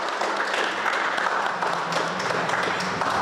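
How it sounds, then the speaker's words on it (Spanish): A seated audience at an academic presentation breaks into dense, sustained welcoming applause, many hands clapping evenly and close for the whole stretch without a pause. "Para ella les pido por favor un aplauso de bienvenida."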